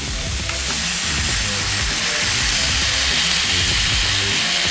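Steak stir fry sizzles loudly and steadily in a hot pan as a soy sauce mixture hits it, a dense continuous hiss with low bubbling underneath and no talk.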